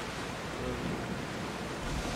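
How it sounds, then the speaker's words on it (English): Big ocean waves in Assassin's Creed Odyssey, a continuous, broad roar of surf and wind at sea, rushing steadily throughout without breaks. "These are big fucking waves."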